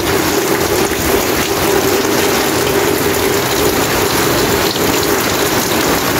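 Heavy rain pounds down during an outdoor barbecue under a roof, a loud, unbroken roar of water that stays close and constant, with no voices over it.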